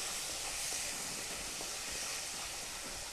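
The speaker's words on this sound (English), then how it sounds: "Saute again till oil separates. Saute well." Tomato puree sautés in oil for Kabuli rice, giving off a continuous close hiss and sizzle. The sound stays even, loud and unbroken from start to finish, with no speech.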